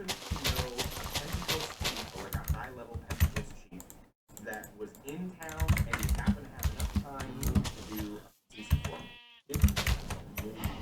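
A sheep bleats in the Minecraft mod Better Than Wolves: a short wavering bleat briefly surfaces amid a busy mix of game sounds, clicking keys and people talking.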